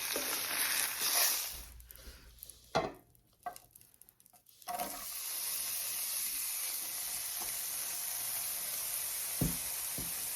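Eggs frying for an omelet in a pan give a steady close hiss and sizzle, briefly broken by soft clinks and stirring before settling into a constant crackle.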